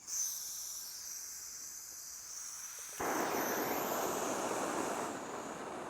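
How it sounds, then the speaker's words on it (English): A gas canister camping stove roars steadily once lit, a loud broadband rushing burn that jumps up abruptly partway through and holds constant to the end, with a faint hiss beforehand. "Now that's one of the drawbacks of gas is the noise. They're very loud."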